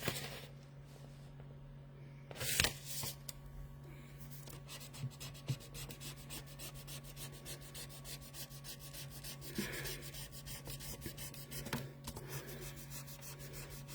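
Pencil lines are rubbed out on a sheet of wood, a faint, steady scrubbing that runs on and off under a low background hum, with a few brief louder knocks.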